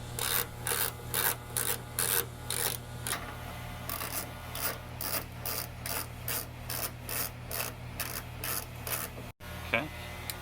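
A ratchet wrench turning off the bolt and nuts that hold a Honda taillight to the trunk lid, giving a steady run of rhythmic clicking, rasping strokes, close and fairly loud, with a brief clunk near the end.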